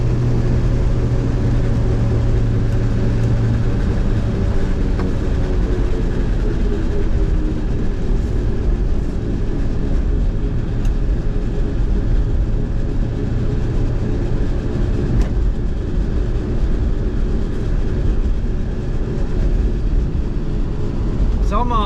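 A Dodge Ram W150 pickup with a failing transmission drives slowly and smokes, giving a steady loud drone of engine and drivetrain throughout with a low rumble. No talk is heard.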